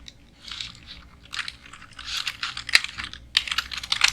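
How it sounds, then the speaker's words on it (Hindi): Keys clatter on a computer keyboard as text is typed during a WordPad computer class, coming in quick irregular bursts with a few sharper, louder clacks near the end. "मैं पहले कोई टेक्स्ट यहाँ पे टाइप कर लेता हूँ।"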